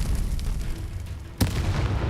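A Confringo blasting spell explodes in the Hogwarts Legacy video game: one sudden loud burst past the midpoint, with a sharp onset over a dense low rumble of background game noise.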